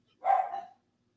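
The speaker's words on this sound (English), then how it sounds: "Dogs are going crazy." A single short dog bark inside a house, fairly close and clear, standing alone against silence.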